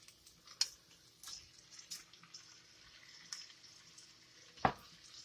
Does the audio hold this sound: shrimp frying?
yes